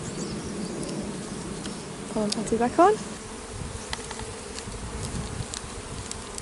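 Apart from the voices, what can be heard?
honey bees buzzing around an open hive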